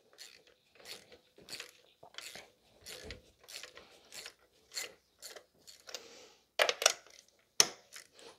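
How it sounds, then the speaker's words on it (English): A ratchet on a 5/8 spark plug socket loosens the spark plugs on a 2005 Toyota Corolla with a misfire. It gives a close series of clicking bursts in an irregular rhythm, with a few sharper metallic clacks near the end. "We're gonna remove the spark plugs."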